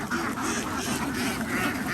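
A flock of laying ducks on a farm at Yang Chum Noi quacks continuously and loudly, many overlapping calls forming a dense, near chorus with no talking.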